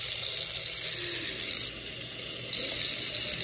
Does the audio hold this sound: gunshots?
no